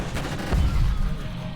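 A short burst of rapid gunfire is heard in a Half-Life 2 mod video game. It rises suddenly midway through and then fades into a dull background rumble.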